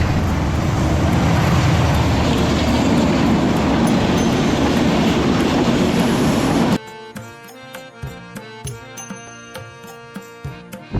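The Silk City passenger train on the Dhaka to Tangail line in Bangladesh runs on the rails with a loud, continuous rumbling roar for about seven seconds, then abruptly drops to a quieter, tonal sound with rhythmic clicks.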